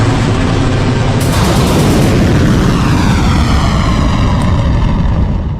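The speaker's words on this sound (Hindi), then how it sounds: "सन्नाटे को चीरती मिसाइल का शोर हुआ।" A loud, sustained roar of missile launch thrust, broadband and continuous throughout, with a rushing high hiss joining partway in.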